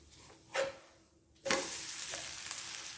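Millet adai batter sizzling on a hot pan after being flipped, two sharp bursts of frying hiss followed by a steady crackling sizzle that continues to the end.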